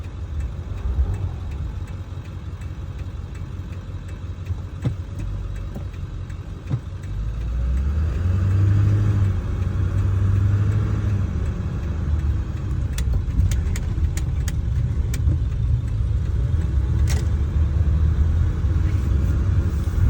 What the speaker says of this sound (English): But old diesels typically were noisy, though.